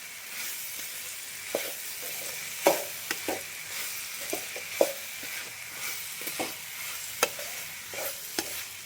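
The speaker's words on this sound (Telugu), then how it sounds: "ఇప్పుడు వీటిలోకి మనం అప్పుడే వేయించి పెట్టుకున్నాం కదా బెండకాయలు, అవైతే వేసేద్దాం." Fried okra is tipped into a simmering tamarind masala stew and stirred, giving a soft bubbling sizzle broken by several distinct clinks and scrapes of a spoon against the pot, close and moderately quiet.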